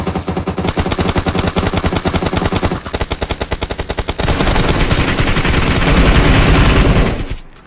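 Rapid automatic gunfire in a battle royale video game rattles close and loud in a fast, evenly spaced burst, then merges into a denser, continuous roar of fire before cutting off abruptly.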